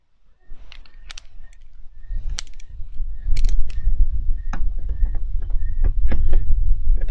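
Rear lamp screws being driven back into a Ford EcoSport's tail light housing: a series of sharp mechanical clicks and small creaks, close and fairly loud, spaced irregularly over a low rumbling background.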